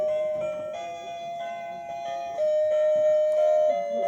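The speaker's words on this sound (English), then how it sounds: "Christmas, more Christmas bells." Electronic Christmas bell chimes ringing from a battery gadget in a thrift store, a loud sustained melodic tone with bell overtones over faint background shop noise.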